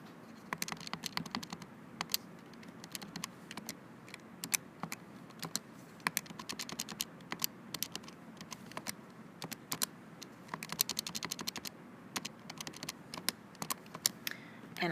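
Calculator keys are pressed in a steady stream of quick, light clicks, close and soft, with short irregular pauses between taps.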